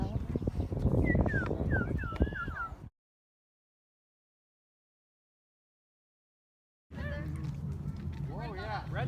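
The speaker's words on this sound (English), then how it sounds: "Can you hear that bird over there? With the bird making weird noises in there." A bird calls outdoors with a run of short whistled, warbling notes close by, set over wind and background noise. People talk nearby, and the sound drops out completely in the middle before resuming.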